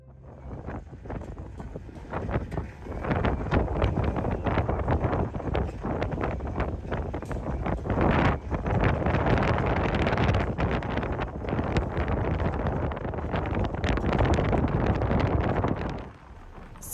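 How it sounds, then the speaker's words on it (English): Strong wind on the deck of the Edmonds–Kingston ferry buffets the microphone in loud, gusty roars, with a low rumble of engine and water underneath. "it's really windy and cold"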